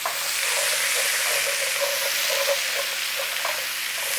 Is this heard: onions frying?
yes